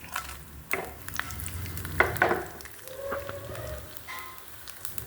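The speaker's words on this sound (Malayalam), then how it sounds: "കടുക് നല്ലപോലെ പൊട്ടിക്കഴിഞ്ഞാൽ" Mustard seeds and urad dal with dried chilli spluttering in hot oil, crackling and popping at a steady, fairly quiet level, with a few sharper pops and stirring clatter near the microphone and no talking.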